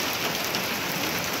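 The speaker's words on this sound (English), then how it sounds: "That's a lot of rain." Heavy rain pouring down in Cedar City, Utah, a dense, steady roar of droplets hitting surfaces, loud and unbroken with no voices.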